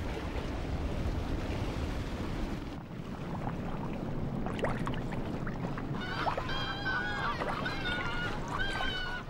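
Young cormorants squabble over caught fish in the surf off Oman, giving harsh honking calls in the latter half over a constant wash of waves and water.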